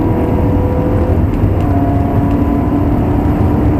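A Ferrari 360 engine roars under hard throttle on the Silverstone track, a loud, close, sustained drone with a harsh whirring edge that fills the whole stretch, nothing else audible.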